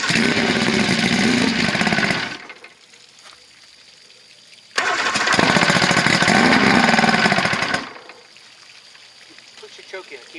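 An outboard motor mounted on a 1984 Grady White Overnighter 20 boat starts twice, each time roaring loudly and rattling for two to three seconds before cutting out into quieter gaps.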